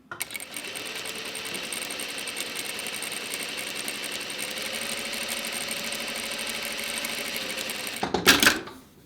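A Juki industrial sewing machine stitches continuously up close, a fast, even mechanical whirr that runs for several seconds before a short louder clatter near the end.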